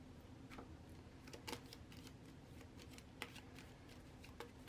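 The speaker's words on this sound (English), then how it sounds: "Give them a good shuffle" Crisis cards from the Marvel United board game being shuffled by hand, with quick papery riffles and snaps in uneven bursts, faint and close, and no talking.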